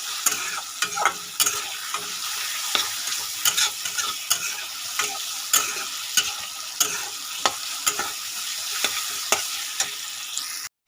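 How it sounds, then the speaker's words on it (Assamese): Ground coriander, cumin and turmeric frying in a pan for an Assamese fish curry, with repeated sharp scraping stirs of a spatula over a continuous soft sizzle, ending abruptly. "ধুনীয়াকৈ মই ভাজি ল'ম"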